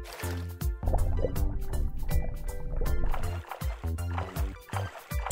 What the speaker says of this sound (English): Jump in the water and push the water backward with your hands.